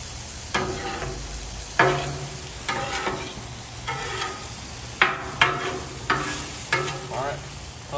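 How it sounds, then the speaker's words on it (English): Onions stirred into steak sizzling in a hot pan, with a steady loud fry under repeated scraping stir strokes every second or so, close up and with no talk. "Now we're going to start mixing the onions in"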